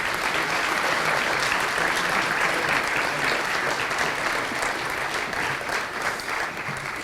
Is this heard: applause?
yes